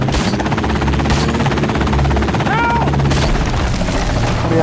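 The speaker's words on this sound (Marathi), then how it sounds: "हेलिकॉप्टर काय यार." Helicopter rotor thumping in the zombie video game Zombie World, a loud steady drone that fills the whole stretch, with gunfire-like bursts and a voice briefly breaking in over it.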